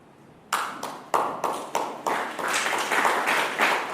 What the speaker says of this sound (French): Ça mérite effectivement des applaudissements de nous-mêmes